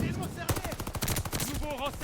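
Gunfire from the Volk rifle in the Call of Duty Vanguard beta's Patrol mode, a fast burst of loud repeated shots mixed with other game sounds, with someone talking over part of it.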